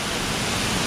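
Roaring waterfall on the Three Gorges trail, a steady broadband rush of falling water that fills the clip, close and loud with no break.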